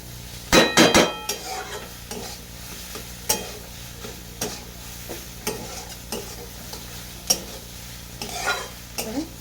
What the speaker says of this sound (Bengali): পেঁয়াজ রসুন আদা সব দিয়ে কষে নিলাম এমনি আর একটু ভেজে ভেজে নেবো